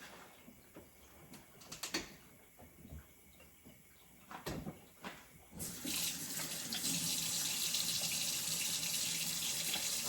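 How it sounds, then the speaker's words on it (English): A kitchen tap is opened and water gushes steadily into a sink for hand washing, preceded by a few faint knocks and clatters, the running stream loud and continuous in the second half. "let me go ahead and wash my hands"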